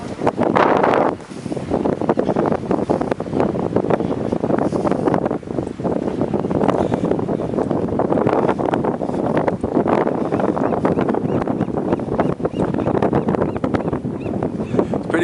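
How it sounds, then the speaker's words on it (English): Strong wind blows at a lakeside, a loud steady rush of buffeting across the microphone that runs continuously throughout, with brief dips in intensity and no clear talking. "It's pretty windy today."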